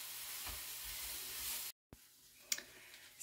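Hash browns frying in oil in a pan give a quiet, steady sizzle that cuts out briefly, then returns softer with a sharp clink or scrape from a utensil partway through.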